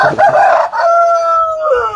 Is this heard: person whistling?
no